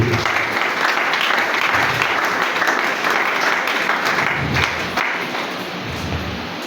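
A church congregation applauds and cheers in praise during a French-language worship service, dense steady clapping filling the room for several seconds before tapering slightly near the end.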